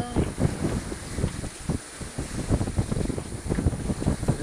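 Wind buffets the microphone aboard a sailboat over a rushing, splashing sea, loud and gusty, with faint voices now and then underneath.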